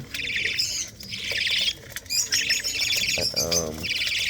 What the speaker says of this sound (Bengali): আমার পাখিগুলো আসলে মিচির করছে যে খাবারের জন্য এখন আমি খাবার দিইনি